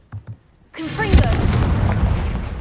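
A Confringo fire spell goes off in Hogwarts Legacy, a loud sudden burst followed by a sustained roaring, crackling blast with whooshing tones over a rumbling low end, after two brief soft thumps.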